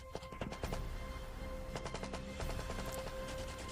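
An M1917 heavy machine gun fires rapid bursts of shots in quick, rattling clusters, fairly faint and distant, with no talking.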